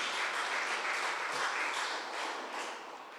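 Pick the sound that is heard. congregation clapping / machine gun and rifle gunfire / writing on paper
congregation clapping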